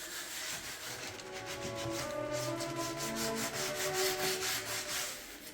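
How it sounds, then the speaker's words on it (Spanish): Sandpaper rubs by hand along curved wooden door edges, stripping old varnish from dining room furniture; a steady, close scratching with short repeated strokes continues without pause. "no nos queda otra alternativa que eliminarlos lijando a mano"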